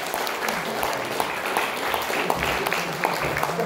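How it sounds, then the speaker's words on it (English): Audience applause for a family at a folk music group's debut performance, a steady wash of clapping from a small crowd with a few sharper claps standing out, no speech over it. "So they should have a round of applause."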